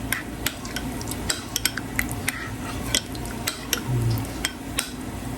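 Utensil stirring pepper into food in a pan or bowl at a Filipino home breakfast cooking session, with repeated light metallic clinks and scrapes against the cookware at an irregular rhythm, close and moderately loud.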